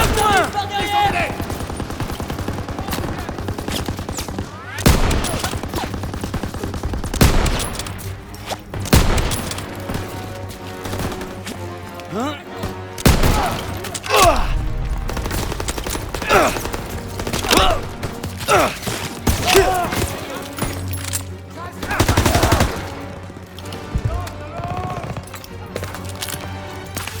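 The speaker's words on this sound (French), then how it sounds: "Mitrailleuse au premier étage!" Machine gun fire and a fusillade of gunshots in the video game Call of Duty WWII, with repeated loud bursts and booms through a busy battle mix, while voices shout over the action.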